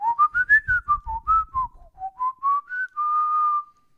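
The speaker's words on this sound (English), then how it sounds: "I'm a pretty good whistler." A person whistles a melodic tune close up, a string of short rising and falling notes ending on one long held tone, with faint low thumps under the first half.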